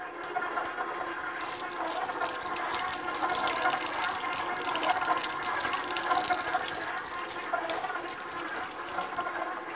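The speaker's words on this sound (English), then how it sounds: "I'm gonna add just a little bit more water to it." Water pours steadily from a tap into a bowl while sourdough pizza dough is mixed at home, a continuous even hiss of running water with no talk.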